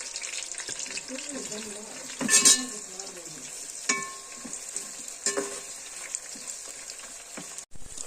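Chopped onions fry in hot oil with cumin in a pan, producing a steady close sizzle broken by a few sharper stirring scrapes and clatters. A faint voice may sit underneath.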